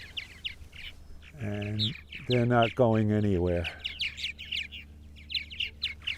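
Purple martins chirp and chatter around their nest house on Eastern Long Island, calling from close overhead in quick bursts while someone talks nearby.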